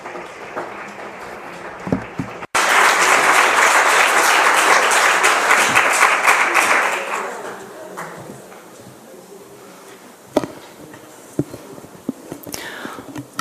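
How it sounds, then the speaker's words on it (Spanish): Applause from an audience at a talk on protecting life internationally swells loudly for several seconds, then fades into scattered claps, a few sharp knocks and faint room murmur. "un aplauso"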